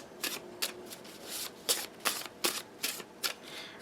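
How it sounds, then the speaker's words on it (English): A nature-themed tarot or oracle card deck is shuffled by hand in a series of quick, crisp riffling bursts, about nine or ten in a row at an irregular rhythm, close and clear with no talking. "you shuffle, shuffle, shuffle, shuffle till you get that zing"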